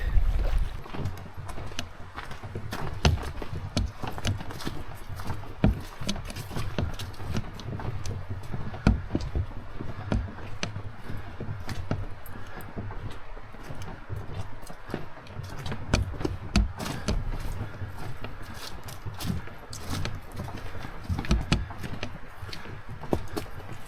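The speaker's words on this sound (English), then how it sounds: "We are off. We've got about a 2-minute paddle to get to the other side of this pond." A canoe is paddled across a calm pond in the wilderness, with repeated knocks and splashes of the paddle strokes over steady water and boat noise, close and fairly continuous.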